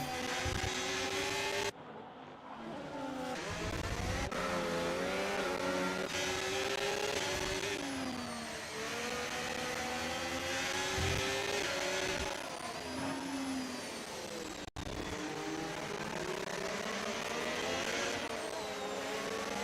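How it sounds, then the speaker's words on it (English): Formula One race cars in the video game F1 25 at the Australia circuit scream past one after another, engines revving and shifting pitch as they accelerate and fade, loud and continuous. "enjoying the Formula One car sounds"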